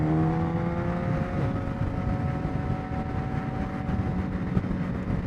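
Yamaha FZ1 inline four-cylinder motorcycle engine held at 5,000 RPM in fourth gear while riding, a steady, droning hum with a constant pitch under a broad rush of wind and road noise.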